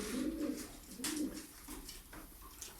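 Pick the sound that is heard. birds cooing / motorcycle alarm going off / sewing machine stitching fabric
birds cooing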